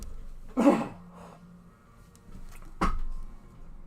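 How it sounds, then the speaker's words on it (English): Someone clears their throat with a sharp, close rasp, followed a couple of seconds later by a second short throat-clearing burst in a quiet room. "Excuse me, I gotta clear my throat."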